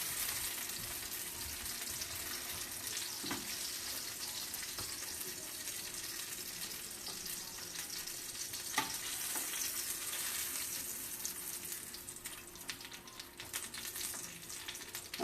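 Breaded milanesa steak frying in a pan, a dense, continuous crackling sizzle that stays loud and close throughout, with a few scrapes and bumps and no talking.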